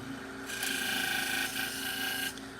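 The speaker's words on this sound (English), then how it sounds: "So we're going to polish it a little bit, get the burr off of it." Pet grooming shears are polished on a sharpening machine to take off the burr, a steady abrasive whir that swells for about two seconds and then drops back to a lower hum.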